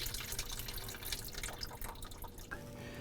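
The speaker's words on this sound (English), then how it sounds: "remove this drain cap for the water and wait for it all to completely drain out" Water drains and drips from the drain of an undercounter ice maker once its drain cap is removed, a soft steady trickle with light dripping, fairly quiet and close, with no talk.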